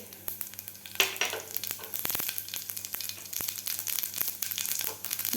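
Mustard seeds and cumin splutter in about a spoon and a half of hot oil in a pan, a constant sizzle broken by frequent sharp crackling pops close up.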